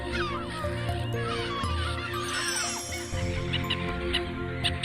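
Several gull species, including lake gulls, call repeatedly while feeding together at a lake, with their cries overlapping in steady, moderately distant bursts.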